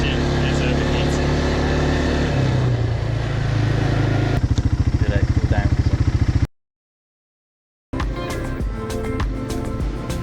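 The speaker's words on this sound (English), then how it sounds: "I'm a little worried that the engine is overheating." A quad bike engine runs during a ride through Crete, a loud droning rumble that shifts into rapid rhythmic pulsing before cutting to silence, then resumes with rougher noise; the rider had feared it was overheating.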